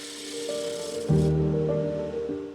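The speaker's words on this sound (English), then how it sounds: "The gouge's bevel is slightly rubbing the wood surface throughout the cut." A woodturning gouge cuts an eastern red cedar bowl on a lathe, its bevel rubbing the wood, giving a steady scraping, humming drone that swells louder midway and continues evenly, close and alone.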